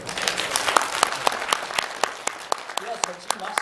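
Audience applause at a press conference, a steady burst of many hands clapping close by, with a few sharp individual claps standing out and faint voices underneath.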